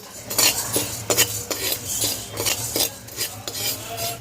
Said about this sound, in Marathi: आपण धने मिठावर परतून घेणार आहोत